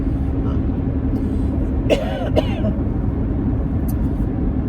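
A couple of short coughs close to the mic over a constant low rumble of road noise inside a moving vehicle.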